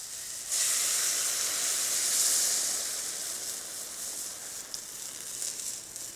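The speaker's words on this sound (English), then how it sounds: "all we're going to do is strain this broth directly into the vegetables" Hot broth being strained straight into a pan of cooking vegetables, leeks among them, sets off a sudden loud sizzling hiss that swells, holds for a couple of seconds, then gradually settles into a steady, softer sizzle.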